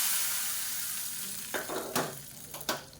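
Hot tempering poured into a pot of cabbage sambar, a steady frying hiss that surges as the mix hits, with a few sharp crackling bursts and scrapes near the end, and no talking.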